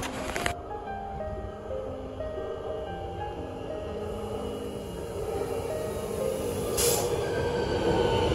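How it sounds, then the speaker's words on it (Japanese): A train rolls into a station in Paris, its wheels squealing on the rails as the rumble builds steadily and grows louder toward the end. "電車が来ます"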